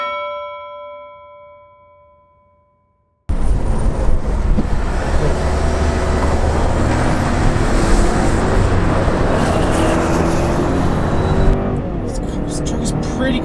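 A turbocharged Chevy or Ford pickup in two-wheel drive launches hard from a stop and accelerates toward 60 mph, a loud, steady engine and road roar heard from inside the cab that fills the clip after a quiet start and a chime.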